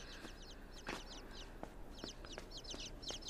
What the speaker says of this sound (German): Oh, ich höre schon wieder die Küken!